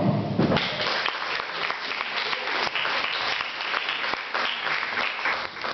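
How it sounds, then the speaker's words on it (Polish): Dense audience applause at a Polish cabaret show, loud and steady throughout, with no voices over it. "Brawa."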